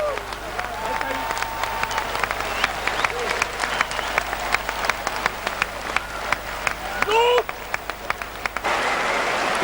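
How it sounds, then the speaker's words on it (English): Sustained crowd applause at the 1995 World Judo Championships following a throw, dense rapid clapping from a large arena audience, loud and continuous for several seconds with a few sharper bursts. "The well-executed throw is roundly applauded."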